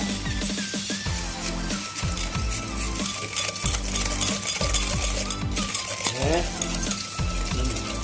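A balloon whisk beats granulated sugar for chocolate cupcake batter in a bowl, giving a steady, close scraping and stirring rattle with rhythmic strokes that continue throughout, over a constant background hiss.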